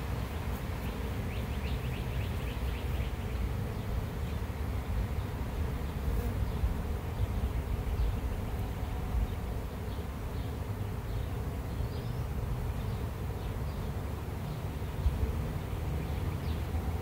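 A dense swarm of honey bees hums continuously up close, a steady low drone with occasional higher buzzes passing by, no voices.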